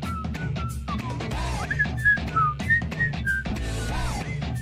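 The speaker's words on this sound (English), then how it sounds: "Look at him dance. His whistling is really good." An animated cartoon character whistles a bouncy tune of short sliding notes over steady backing music, clear and prominent throughout.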